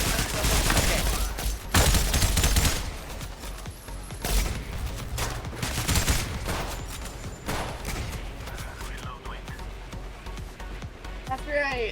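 Gunfire in a video game set in a blizzard, bursts of rapid shots and heavy booms arriving in clusters, loud and close, with a person talking over parts of it.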